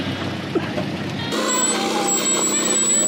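A stuck vehicle's engine roars loudly up close as it strains to pull free of desert sand in Balochistan. Its pitch and tone shift sharply partway through.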